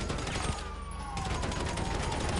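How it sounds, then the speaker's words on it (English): Gunfire in a GTA V Online cops-and-robbers session, with sharp shots at the start and again later over a busy, dense game background. "Shots fired! Shots fired from inside."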